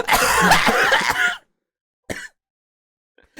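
A burst of harsh, close coughing for over a second, then a short pause and one more brief cough, with silence after.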